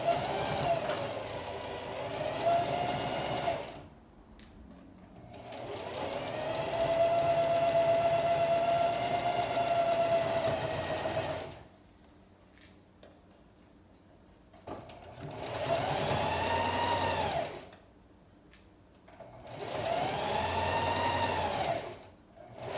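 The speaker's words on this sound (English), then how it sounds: "So the last step, we're gonna go ahead and sew this closed." A sewing machine stitching a fabric scrunchie closed runs in four steady whirring bursts separated by quiet pauses, close and moderately loud.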